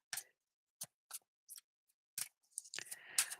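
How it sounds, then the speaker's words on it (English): A tarot card deck is shuffled loosely, giving a series of short, crisp card riffles and snaps separated by silences, then a quicker flurry of card noise at the end. "Me and my lazy shuffling."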